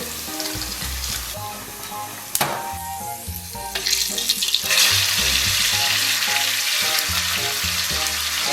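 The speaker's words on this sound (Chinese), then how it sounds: "油热，咱们把豆皮炸一下。" Tofu skin crackles and sizzles as it drops into hot lard, loud and close, with a sharp burst of spitting partway through that swells into continuous bubbling frying; faint background tones and no speech.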